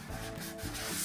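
Steady abrasive scraping of sandpaper rubbing over a Nissan Xterra Pro 4X emblem to strip away oil and grime, a continuous close rasp with slight back-and-forth pulses and no talking.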